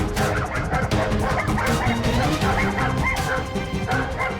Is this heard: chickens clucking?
no